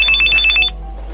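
A telephone rings with a rapid, warbling electronic trill that stops abruptly after about half a second, loud and close over a steady low hum, with no voices.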